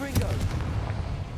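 A Confringo fire spell blasts in a video game, a deep booming burst near the start followed by a rumbling, crackling tail that fades out over about a second.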